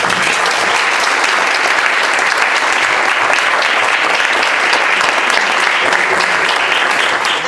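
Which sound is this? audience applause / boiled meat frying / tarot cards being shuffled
audience applause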